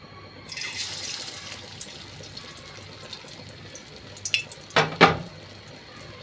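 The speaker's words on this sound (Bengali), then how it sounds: "দেখুন তেলটা গরম হয়ে গেছে। এখন আমি বড়াগুলো দিয়ে দিব।" Kofta balls of meat, green banana and lentil dropped one after another into hot oil, a steady frying hiss under a few sharper spattering crackles near the end.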